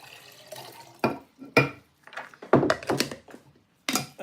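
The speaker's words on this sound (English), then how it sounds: "I could show you guys how I'm filtering my water here if you want." Water runs and splashes as it is poured through a home filter, with irregular bursts of pouring, gurgling and glassy clinks, close and fairly loud.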